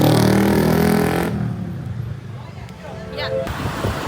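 A scooter engine revs and pulls away on a Bali outing, loud at first, then dropping off sharply and fading into quieter road noise with background chatter.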